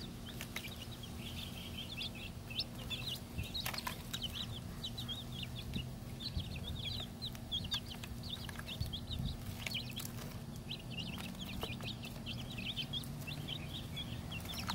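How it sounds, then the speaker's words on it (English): Young chicks being fed kale and lettuce in a garden setting give a continuous chorus of soft, high chirps and clucks, moderately near, with no talking. "I'm right here feeding the little chicks"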